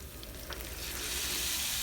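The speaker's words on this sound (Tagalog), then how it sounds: "Lagay na natin yung alamang. Gigisa natin yan dyan." Bagoong alamang (shrimp paste) sautéing in a hot pan gives a steady, close, bright sizzle that swells slightly toward the end, with no talking.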